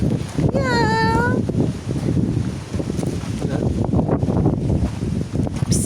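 Wind roars across the microphone in constant gusts at the ancient city of Teos near Sığacık, Turkey, with a short whistling tone near the start and faint voices in the background.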